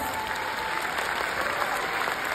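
A leadership school audience claps in a steady, full round of applause with no talking over it.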